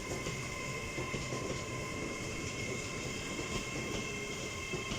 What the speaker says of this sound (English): Driving in now is an LNER service off to Edinburgh Waverley